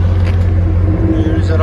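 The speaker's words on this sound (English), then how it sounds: "There's that idle." A RAM 1500 truck with a 5.7L HEMI V8 and aftermarket exhaust idles close by in a loud, steady, deep rumble.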